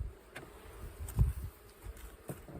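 Honeybees hum faintly and continuously around a frame of pollen and honey lifted from a hive, with a few louder passes close by and soft handling bumps beneath.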